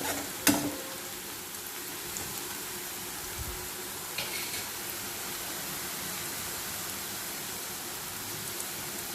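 Cashew nuts frying in a pan of oil for mint rice, a steady low sizzle with faint bubbling and a few stirring clinks, heard alone and fairly quiet.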